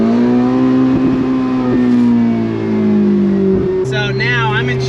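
A Ferrari 488 engine revs loudly from inside the cabin, its pitch rising and falling through several throttle blips, with a sharp shift near the end, while people talk over it.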